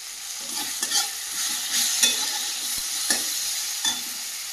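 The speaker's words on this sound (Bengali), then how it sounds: "সামান্য একটু জল দিয়ে দেবো মশলাটা ভেজে নেওয়ার জন্য।" Ground coriander, cumin and Kashmiri chili powder fry in a pan with a splash of water, giving a soft steady sizzle broken by several light scraping stirs.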